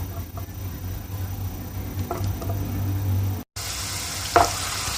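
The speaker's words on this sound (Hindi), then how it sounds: "हम पतीली लेंगे, इसके अंदर हमने तेल डाल दिया और जो प्याज हमने काटी थी वो थोड़ी सी अभी डाली है" Chopped onions frying in oil in a pot, a steady close sizzle and crackle with a low hum beneath, briefly cut off midway before resuming brighter, with a single stir or scrape near the end.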